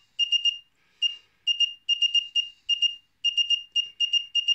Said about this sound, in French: On pourrait changer, par exemple, la fréquence du bip.